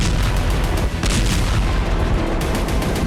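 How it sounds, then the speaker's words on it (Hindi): Sonic booms from IDF fighter jets over Lebanon, loud and close, with heavy, repeated thunderous cracks and rumbling that fill the whole stretch without pause and with no voices. "आईडीएफ के फाइटर जेट की सोनिक बूम से लेबनान थर्रा रहा है।"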